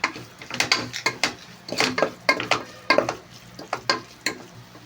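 Masala being stirred with salt in a pan for chicken biryani, a near, rhythmic run of scraping spatula strokes against metal over a low sizzle.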